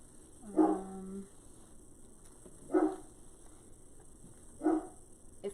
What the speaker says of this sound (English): If he keeps barking,